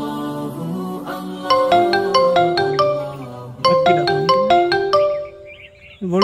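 A mobile phone ringtone signals an incoming call, its bright chiming melody repeating in two bursts over a held tone, loud and close, with no talking.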